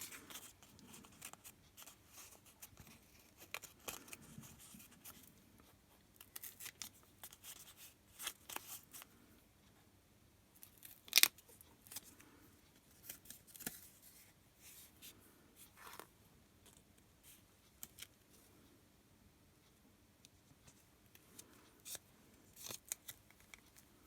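Scissors snip sewing thread during a painting and crafting session, a series of small quiet cuts scattered across the stretch with one sharper snip standing out, in a near-silent room.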